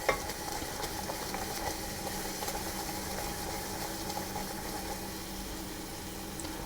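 Caramel mixture being stirred in a hot pan, a steady low scraping and bubbling sizzle running continuously and evenly from start to finish with no voices.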